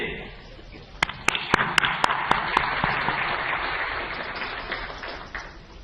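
Hall audience applause at the 16th International Energy Forum ministerial, a dense round of clapping with a few sharp, loud individual claps near the start, slowly fading toward the end.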